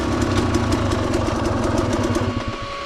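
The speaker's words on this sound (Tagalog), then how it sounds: "Kaya umandar yung motor niya." A motorcycle engine runs at a steady idle, a close, continuous, rhythmic putter with no talking.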